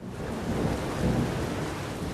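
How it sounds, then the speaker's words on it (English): A thunderstorm rumbles with steady heavy rain and wind, a broad, loud, continuous wash with low thunder swelling through it. "Storm's dying down."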